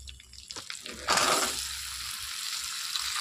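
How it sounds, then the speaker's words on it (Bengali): Potato pieces tossed into hot oil tempered with bay leaves: a few soft stirring taps, then a sudden loud burst of sizzling that settles into a steady close frying hiss. "এই ফোড়নের মধ্যে এবার আমি আলুটা দিয়ে দেবো।"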